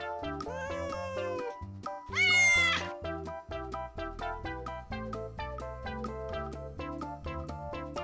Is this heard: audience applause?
no